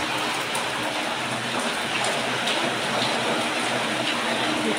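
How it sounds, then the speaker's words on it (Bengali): Heavy rain pouring down at a home, a dense, constant hiss of drops on surfaces with no break, steady and fairly close, with no voices. "ভালোই বৃষ্টি হচ্ছে।"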